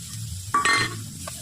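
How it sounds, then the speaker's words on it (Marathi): Finely chopped onions sizzle in melted butter in a pan, with a steady low fry under a loud stirring scrape, followed by a brief clink of utensil against the pan. "आपल्याला छान परतून घ्यायचं आहे."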